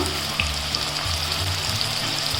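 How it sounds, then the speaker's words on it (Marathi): Chopped onion and green chilli sauté in hot oil in a pan for kuyarichi bhaji, a steady close sizzle with faint stirring. "आता हे सगळं छान लाल होईपर्यंत परतून घेते"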